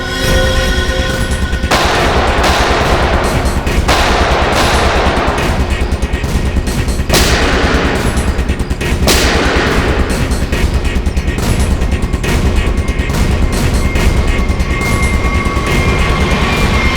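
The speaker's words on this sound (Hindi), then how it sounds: "गोलियां चला कौन रहा है?" Sustained bursts of rapid gunfire, loud and close, with sharp cracks repeating throughout over a continuous roar.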